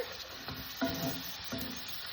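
Garlic paste being stirred into a pan of beef stroganoff over medium heat, producing a soft, close frying sizzle with a few faint spoon scrapes. Brief and fairly quiet, with no voices.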